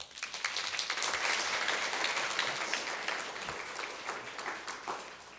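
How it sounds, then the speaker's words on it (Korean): Warm applause from a church congregation welcomes someone forward, continuous clapping that builds, holds steady, then tapers off slightly, heard at moderate distance with no talking. "나오실 때 박수로 환영하겠습니다."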